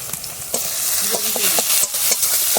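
Spices sizzle loudly in hot oil after turmeric and chili powder go in, and a spoon stirs and scrapes through them with several clattering strokes.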